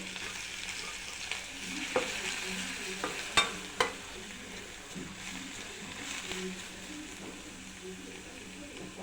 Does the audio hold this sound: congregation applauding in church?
no